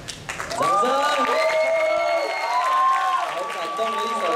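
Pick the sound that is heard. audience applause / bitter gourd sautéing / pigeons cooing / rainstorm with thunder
audience applause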